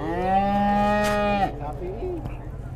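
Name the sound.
cow mooing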